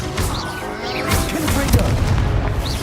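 An Incendio fire spell cast during a duel in the video game Hogwarts Legacy: a loud booming whoosh and crackling burst over dense game noise, with a voice talking underneath.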